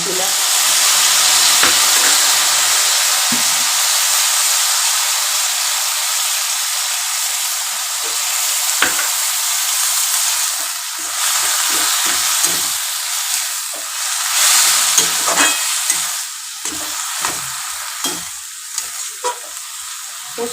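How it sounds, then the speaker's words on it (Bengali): Ground mustard paste hits a hot pan and fries with a steady, loud hiss, broken by bursts of sizzling crackle and the scrape of stirring throughout. "এই যে সর্ষে বেটে এনেছি এই এর ফাঁকে সেই সর্ষে বাটাটা দিয়ে দিলাম"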